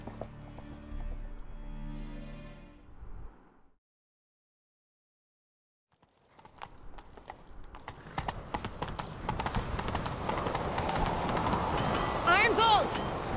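In the video game The Witcher 3, a brief murmur of a voice fades to silence, then rhythmic hoofbeats of a galloping horse build and grow loud, with a whinny near the end.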